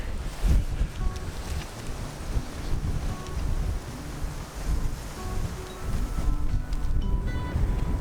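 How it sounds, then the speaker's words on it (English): Steady wind roaring across a microphone on a beach in New Plymouth, Taranaki, New Zealand, mixed with a low rumble like surf, continuous and fairly loud throughout. "It's kind of windy."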